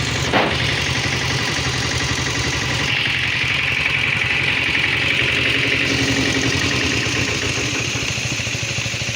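A KTM enduro motorcycle idles steadily and close by, its engine note holding an even, continuous rumble with a slight change partway through and no talk over it.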